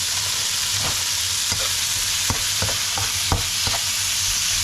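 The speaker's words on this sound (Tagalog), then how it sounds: "Ginisang gulay" Zucchini and spinach sauté in a hot pan with a steady, close sizzle, broken by occasional sharp clicks and scrapes of a utensil stirring. No one speaks.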